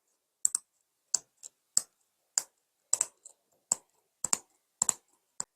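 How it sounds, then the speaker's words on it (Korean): Stationery scissors snip through a stiff bag mesh sheet, producing about ten crisp, separate clicking cuts, some in quick pairs, against near silence. "가방망은 조금 단단한 재질이기 때문에 이렇게 문구용 가위 이용해서 가방 바닥 크기에 맞춰서 잘라주시면 돼요."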